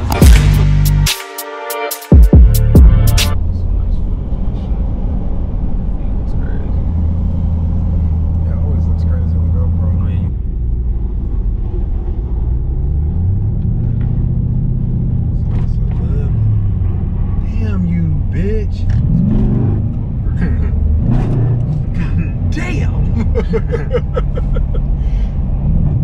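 A Dodge SRT car engine rumbles low and steady, rising briefly in pitch midway, while people talk loudly over it throughout.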